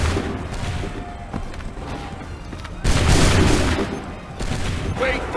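Musket volley gunfire in the video game Assassin's Creed 3 bursts out as dense, loud crackling and booming in overlapping waves, with a massed roar surging midway through.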